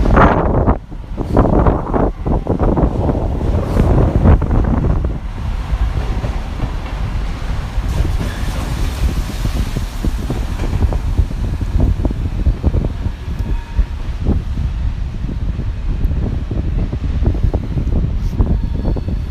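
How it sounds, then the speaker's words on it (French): Steady, gusting wind buffets a railway station with a glass canopy on a rainy day, a loud continuous rush mixed with low rumbling and occasional knocks, with rail traffic nearby. "Ah, le vent!"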